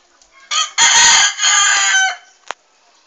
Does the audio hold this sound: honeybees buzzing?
no